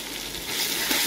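A spiced curry with salt, coriander powder and turmeric frying and being stirred in a pan, giving a short, close burst of hissing sizzle that swells slightly toward the end.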